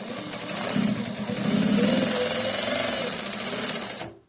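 A JUKI 8300N industrial sewing machine with a servo motor stitching at high speed through a thick stack of fabric, giving a steady, loud mechanical whir that runs continuously before cutting off abruptly.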